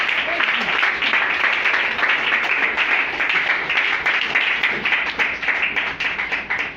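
A church congregation applauds and cheers for Jesus during a French-language sermon, a loud, dense wash of clapping and voices that runs steadily throughout without a break.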